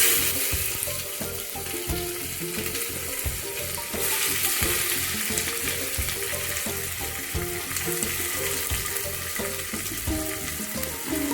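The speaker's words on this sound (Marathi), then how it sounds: "आता लगेचच कांदा घालूया आणि छान असा फ्राय करू" Onion frying in oil with whole spices such as cardamom and cinnamon, for green pea rice: a dense, continuous sizzle with crackling and occasional stirring, close and steady throughout.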